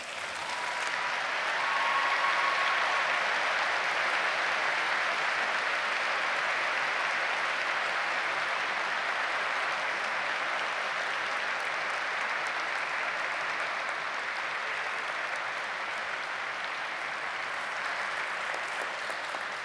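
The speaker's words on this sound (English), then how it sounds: "acknowledge the faculty with a round of applause" Graduates at a law school commencement ceremony applaud the faculty, a large, sustained roar of clapping from a big crowd that stays even and loud for nearly twenty seconds, easing slightly near the end.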